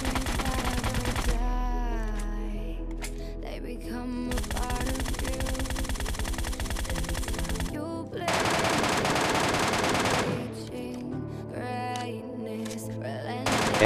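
Bursts of rapid automatic assault rifle fire from PUBG Mobile Lite crackle in several fast volleys separated by short pauses, loud and close, with in-game ambience between bursts.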